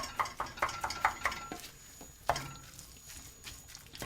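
Ground meat for lasagna being stirred and folded in a pan, with a run of sharp spoon-on-pan clinks and scrapes early on, then a quieter stretch with one more clatter, close and alone.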